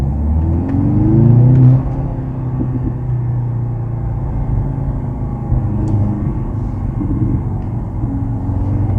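A 2023 Mercedes-AMG C43 in Sport Plus mode, its engine and exhaust rumbling steadily from inside the car on a night drive, with a louder swell near the start before settling into an even drone.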